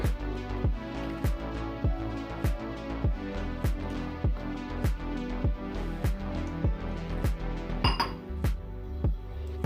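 A utensil clinks steadily against a bowl, about two strokes per second, as thick batter for cheese potato vermicelli cutlets is stirred up close with no talking.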